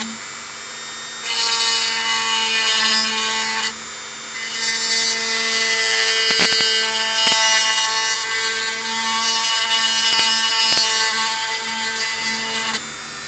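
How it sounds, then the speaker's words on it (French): A handheld rotary tool grinds with the side of its burr on a custom Star Wars Legion AT-ST model, giving a steady high whine in long bursts with brief pauses and short scraping touches. "C'est si j'utilise les côtés de la fraise que ça meule."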